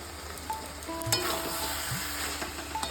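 Ghee and garam masala hit a hot banana-flower curry (mochar ghonto) in the pan, giving a steady close sizzle with light stirring scrapes and a few clinks, without any voices.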